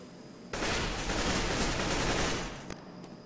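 Gunfire is exchanged in the video game Counter-Strike: Global Offensive, a dense continuous burst of shots lasting a few seconds and then tapering off, loud with no talk over it.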